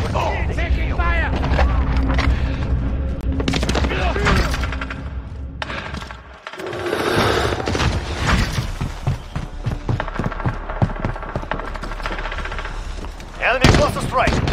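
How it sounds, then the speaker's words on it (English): Rapid automatic gunfire from a FAMAS in a multiplayer shooter video game, dense bursts of loud shots over most of the stretch with a brief lull, game voice callouts and announcer audio mixed in. "Oh, taking fire!"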